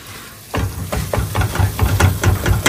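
Mutton frying in a pan with chilli powder, salt and turmeric, giving a steady sizzling hiss with repeated stirring scrapes and knocks, close and fairly loud.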